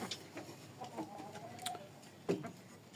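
A rooster offered for sale gives a few faint, scattered clucks amid quiet outdoor background noise.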